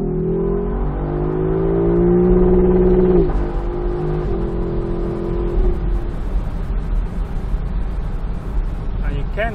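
A Lexus LC 500 Convertible's engine is floored from an on-ramp onto the highway, rising in pitch to the rev limiter, then falling back under road and wind noise, loud and close from inside the car.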